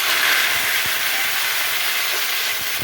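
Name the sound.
cumin seeds sizzling in hot oil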